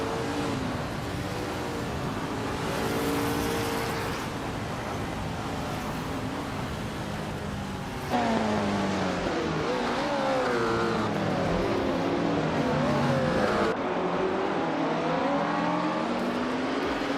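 Vintage race cars led by a 1966 McLaren M1B in a video game race at La Sarthe Retro, engines droning and revving continuously with shifting pitch, sweeping upward and downward through gear changes.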